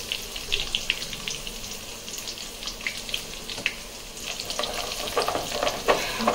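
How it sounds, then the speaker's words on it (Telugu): Cumin and asafoetida tempering in hot oil crackles and splutters with irregular sharp pops over a continuous sizzle, fairly close and moderately loud. "కలర్లో ఇలా చిట్టుతూ ఉంటుందండి, అప్పుడప్పుడు దూరంగా ఉండేసుకోవాలి."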